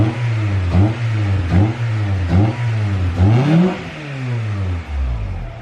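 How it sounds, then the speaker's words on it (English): A Honda Prelude engine with a new exhaust cranks and catches on a cold start, then revs up and down several times in rising, throaty bursts before settling into a rough idle. "let's get that first cold start"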